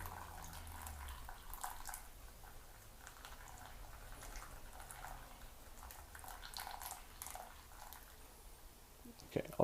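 Hot water trickles steadily in circular pours over pour-over coffee grounds, a soft continuous splashing and dripping that stays even and fairly quiet for several seconds, ending with a couple of faint knocks.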